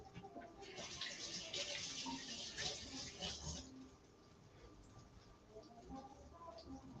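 Large black grapes are rinsed under running tap water, a steady splashing patter that is louder early on, then softens into quieter trickling in a kitchen.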